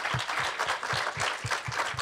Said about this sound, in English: So let's have a round of applause for the gentleman.